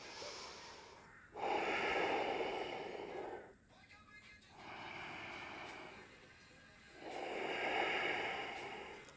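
Slow, deep breaths in a yoga class, three long airy inhales and exhales close to the microphone with quiet gaps between them.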